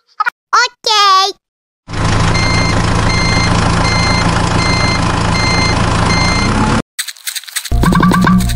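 A few short bursts from a voice, then a truck's reversing alarm beeps steadily for several seconds over a rumbling engine, loud and close.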